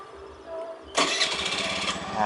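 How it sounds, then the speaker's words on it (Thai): A Honda Zoomer X scooter engine is started by remote and catches after a short quiet moment, settling into a steady, close, buzzing idle for the rest of the clip. "จะมาสตาร์ทให้ดูอีกทีนะครับกดในน้ำเลยเนาะ"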